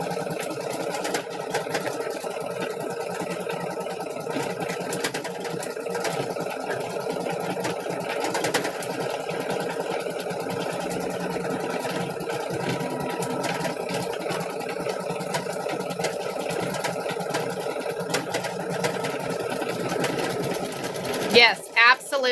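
A sewing machine hums steadily throughout while stitching out snowman Christmas ornaments, a continuous mechanical drone with people talking over it.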